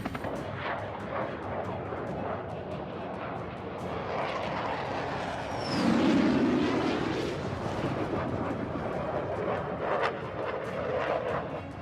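A fighter jet roaring overhead near the Line of Control, a broad, continuous rumble swelling to a louder pass midway, with sharp bursts resembling gunfire or artillery mixed in and no talking.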